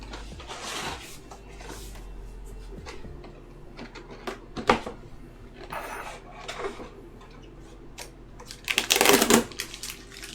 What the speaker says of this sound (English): I bought a mechanical keyboard like a year and a half ago